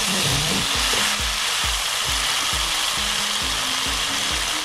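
Chicken pancit canton being stirred and tossed in a hot pan with soy sauce, giving a dense, steady sizzle with a rhythmic scraping clatter of the utensil against the pan about twice a second, with no voices.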